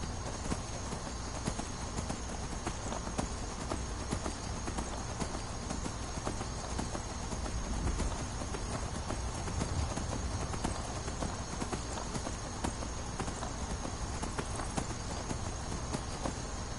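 Steady clip-clop of horse hooves trotting at an even pace in the video game Skyrim, continuous and fairly close, with a constant background hum and no talking.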